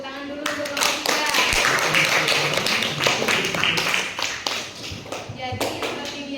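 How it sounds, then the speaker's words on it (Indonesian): A classroom of students claps for a student group, a steady burst of many hands lasting several seconds. Faint voices sit under the clapping. "Tepuk tangan dulu untuk kelompok 3."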